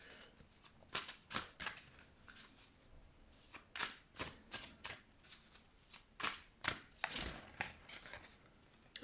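A deck of tarot cards being shuffled by hand, a quiet run of repeated riffling bursts and soft slaps in an uneven rhythm, close by with no talking.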